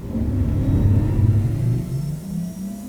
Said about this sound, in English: turn our engine on